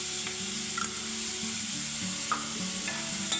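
Onion fries in a little oil in a pan over low gas heat, giving a steady, close sizzle and crackle with a few faint stirring scrapes and no talk.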